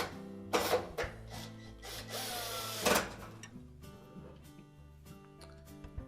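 A power drill drives screws one after another into the sheet-metal panel of a Whirlpool range while its broil element is being replaced, with a few short bursts of whirring mixed with clicks and metal handling and no talk.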